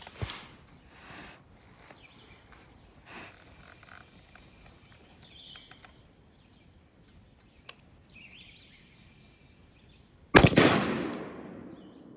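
A single sharp 5.56 rifle shot from an 11.5-inch barrel, fired into ballistic gel, cracks loudly near the end of a long quiet stretch with faint scattered background sounds, then decays quickly.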